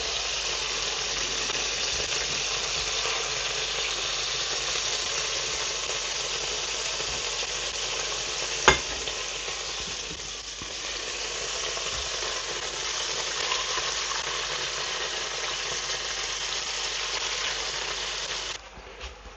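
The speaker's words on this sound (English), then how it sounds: "I'm gonna fry all the chicken like this" Chicken sizzles and crackles steadily in hot oil, a constant loud frying hiss with one sharp pop and a brief clatter near the end.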